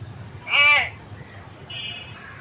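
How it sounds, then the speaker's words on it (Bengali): A caged myna bird at Rangpur Zoo gives one loud, harsh call, followed by a fainter, thin whistle, with quiet background noise in between. "এটা হচ্ছে ময়না পাখি"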